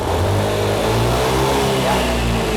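A turbocharged car engine revs hard and steady, its droning pitch climbing and wavering as the throttle is held open at high RPM, loud and close.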